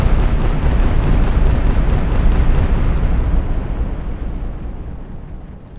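One loud, sustained blast from a custom weapon in an Unreal Engine 4 video game rumbles out as a deep burst, then fades slowly over several seconds with no talk.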